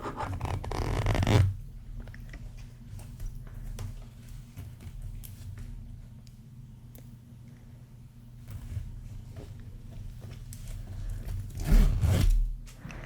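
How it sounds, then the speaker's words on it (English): Soft rubbing and scratching handling noises with a couple of louder zipper-like bursts near the start and end, close and fairly quiet, from a small metal zipper pull on an old 1990s-2000s purse. "I swear the little metal zipper pulls they have now are so hard to get closed"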